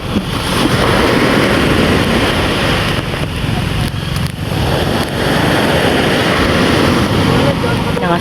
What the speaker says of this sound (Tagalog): Lakas ng mga alon.